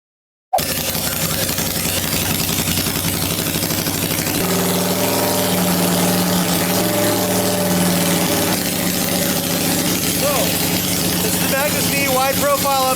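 A Honda Shadow 600 motorcycle fitted with wide-profile upsweep exhaust pipes idles loudly and continuously after starting, a steady, throaty rumble with slight shifts in tone and no talk over it.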